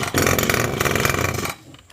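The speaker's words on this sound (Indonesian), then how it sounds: "Kawan tarik-tarik tali starternya." A small petrol engine on a garden machine being pull-started by its cord: a loud rasping, whirring burst of cranking and sputter for about a second and a half, then an abrupt drop to near quiet.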